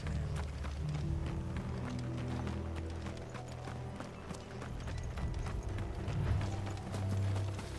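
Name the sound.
horse hooves clip-clopping in the video game Final Fantasy XVI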